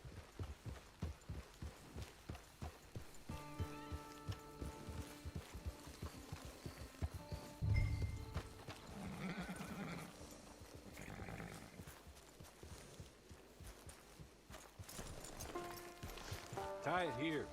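Rhythmic hoofbeats of a horse galloping in Red Dead Online, followed by a whinny, mixed with game music and effects; voices talk at points.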